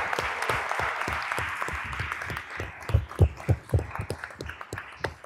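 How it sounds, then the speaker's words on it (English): An audience at a Latinx health policy summit claps for its panelists, a dense burst of applause that swells into louder, sharper claps near the end before thinning out. "round of applause for our panelists"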